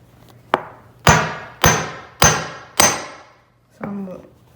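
Five sharp, ringing hammer blows land at a steady pace on a geode wrapped in a towel, close and loud, followed by a softer clattering knock.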